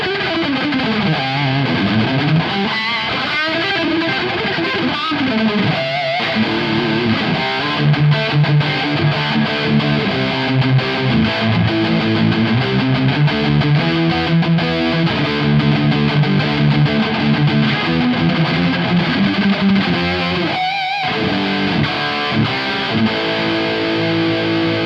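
Heavily distorted electric guitar plays through a 1-watt Marshall JCM1C combo amp driven by a Tube Screamer pedal, chugging chords and sustained riffs loud and continuous throughout, ending with a short break.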